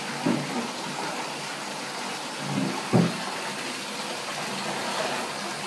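Water running into a tub during a dog's bath, a steady soft gush with a few brief splashes, fairly quiet and with no talking.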